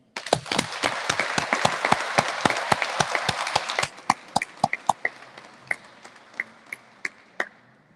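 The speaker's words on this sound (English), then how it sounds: "And a round of applause to all of you." Applause from an audience at a Police Week launch event at Toronto Police headquarters: a burst of crisp, fairly close claps for about four seconds, then thinning to scattered individual claps that fade out.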